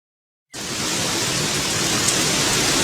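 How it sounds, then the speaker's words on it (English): Heavy rain starts suddenly after a brief silence and continues as a loud, steady, broadband downpour hiss with no voices. "It's raining cats and dogs again."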